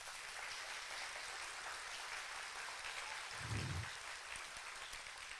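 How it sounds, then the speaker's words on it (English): Audience applause for a guest artist at a steel band spring concert, a steady wash of clapping heard at a distance and fairly faint, with a brief low thump partway through. "Let's give him a round of applause, please."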